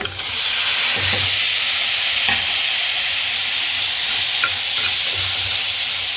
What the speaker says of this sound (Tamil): நல்லா வதக்கிக்கலாம் கேரட்டும் பீன்ஸும் நல்லா வதங்கிட்டு